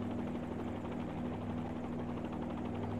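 Helicopter hovering in a flight simulator game, a steady close rotor and engine drone with a constant low hum, unbroken for a few seconds and free of voices.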